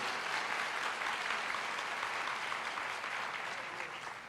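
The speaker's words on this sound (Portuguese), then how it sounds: "Aplaude o Senhor, meu querido." A church congregation applauds steadily, dense clapping filling the room at an even level before easing slightly at the end, with no talk over it.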